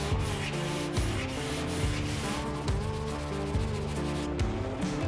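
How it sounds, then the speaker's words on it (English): A sanding block is worked over a scratched car body panel in a body shop, producing a steady, close abrasive rubbing in regular strokes that continues without a break and without talking. "I'm going to block this whole section and bring all of this down to get this out."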